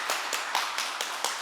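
Applause from an audience welcoming an honored guest at a university alumni prayer breakfast, a brief patter of hand claps with a few louder accents, fairly quiet and steady.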